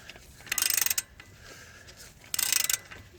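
A ratchet with a two-foot extended handle works a Loctite-stuck brake caliper bolt on a Suzuki Forenza. Two close, loud bursts of rapid clicking are separated by a quieter pause, with no talking.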